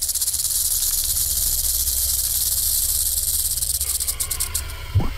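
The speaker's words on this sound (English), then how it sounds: "The older the rattlesnake gets, the longer its rattle." A rattlesnake shakes the rattle on the end of its tail, making a continuous loud, dry buzzing hiss that holds steady from start to finish and flutters near the end.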